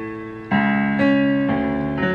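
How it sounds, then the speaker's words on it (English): Piano part from a song's arrangement, playing sustained chords that change roughly every half second in a steady rhythm, clear and fairly loud with no voices over it. "And then this is the piano part,"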